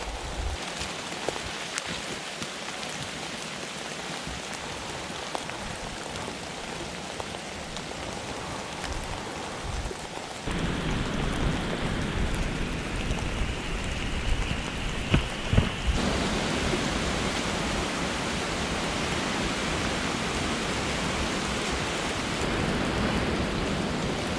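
Cold rain falls steadily throughout, a dense, even hiss of drops on surfaces that thickens and grows louder partway through, with no voices.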